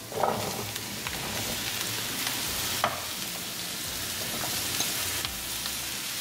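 Zucchini frying in an Indian tadka seasoned with cumin powder, salt, garam masala and turmeric, giving a steady close sizzle while it is stirred, with occasional scrapes and clinks of the spoon against the pan.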